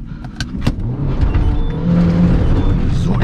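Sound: car engine as the car is driven forward

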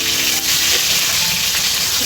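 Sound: potatoes and tomato frying in a pan

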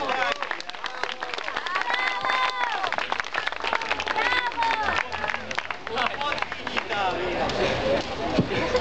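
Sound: audience applause

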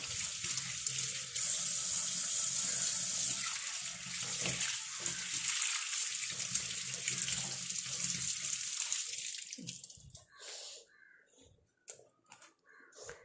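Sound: water poured from tap

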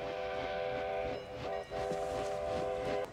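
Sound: train in Back to the Future Part III

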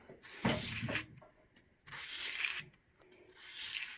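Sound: number 10 clipper blade sliding on hollow-ground sharpening surface

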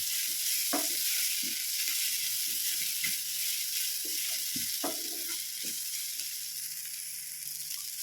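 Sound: mixing and frying spice powders in a pan

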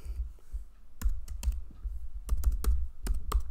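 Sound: typing on a computer keyboard

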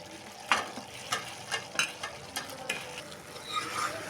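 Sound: stirring manchurian balls into gravy in a pan

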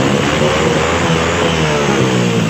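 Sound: motorcycle engine starting and revving after repair

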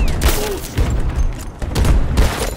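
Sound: grenade explosions in Battlefield 2042 video game

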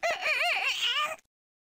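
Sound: rooster sound in a video game

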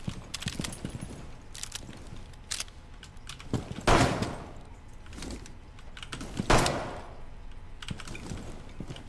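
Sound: gunshots in a video game

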